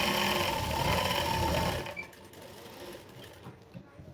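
Close by, a sewing machine hums steadily while stitching a blouse belt, then cuts off abruptly, leaving quiet room tone with faint handling noises.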